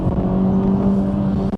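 2023 Acura Integra Type S engine accelerating hard, a loud steady revving drone with a strong humming tone, close and continuous, cutting off abruptly at the end.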